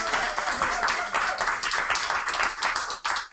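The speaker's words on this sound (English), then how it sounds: "So a bigger round of applause for these folks that came all the way from Washington," An audience at a local bike advocacy training gives a round of applause, a dense and continuous clatter of many hands clapping at close range for a few seconds.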